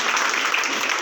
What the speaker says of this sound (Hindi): हमारे कंपनी के honour doctor Pramod Dubey sir के लिए एक बार जोरदार तालियां होनी चाहिए।